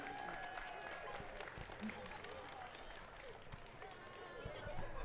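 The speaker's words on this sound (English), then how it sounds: "And yes, give a round of applause to Tony, our head referee." The crowd at a 2023 Southern California VEX IQ elementary school robotics state championship applauds, a faint, even wash of clapping in a large room with voices underneath.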